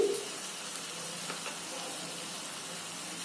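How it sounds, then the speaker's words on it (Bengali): Masala paste with green chilli sautés in oil for a prawn malai curry, giving a steady, soft sizzle and hiss that holds evenly throughout. "এটা আমার কষতে কষতে তেল ছেড়ে এসছে।"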